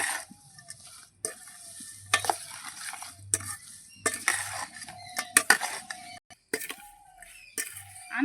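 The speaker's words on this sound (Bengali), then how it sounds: "এবার আমি দিয়ে দিচ্ছি আমগুলো দিয়ে কিন্তু এবার খুব ভালো করে মশলার সঙ্গে মিশিয়ে নেব" Mangoes are stirred into spiced oil in a pan for pickle, with scraping spoon and metal clatter over a soft sizzle, irregular bursts of stirring broken by brief pauses, close by.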